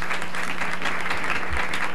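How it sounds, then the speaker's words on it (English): Audience applause at a 1989 awards show, a loud, dense, continuous wash of clapping right after an honorable mention is announced. "Round of applause."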